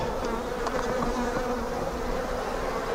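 Honey bees buzz around an open hive during beekeeping work on brood frames, a dense, steady close-up drone with individual bees flitting past, alone without talk.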